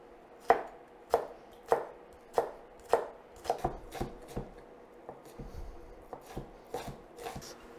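Shallots are chopped with a knife on a cutting board in a home kitchen, about a dozen crisp, close knocks in an even rhythm that grows quicker and less regular toward the end.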